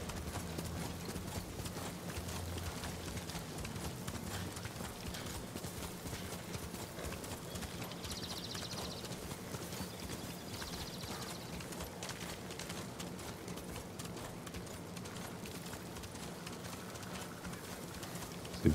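Horse hooves clip-clop steadily in a fast rhythmic gallop while riding along a road in the video game Ghost of Tsushima, with faint bird coos in the background.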